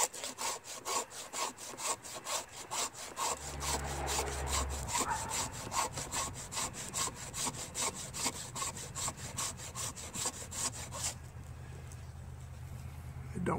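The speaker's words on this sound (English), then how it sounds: "I'm going to use my little hand rasp. Got some Douglas fir." A small hand rasp scrapes Douglas fir into shavings in quick, regular back-and-forth strokes, close and crisp, with a low rumble joining midway before the strokes stop near the end.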